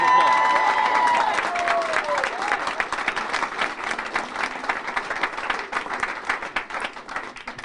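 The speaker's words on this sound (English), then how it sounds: "Give yourselves a round of applause." Crowd applause at a Rochester mayoral primary victory speech, a loud sustained wash of clapping with some cheering, a tone sliding down early on, continuing steadily throughout.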